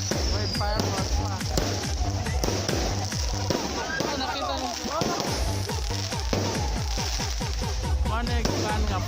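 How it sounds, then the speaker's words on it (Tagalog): Fireworks crack and pop in a rapid, continuous barrage at a Christmas light opening in a municipal plaza in Alicia, Bohol, loud and close, with a voice speaking briefly over them. "Wait, fireworks pa."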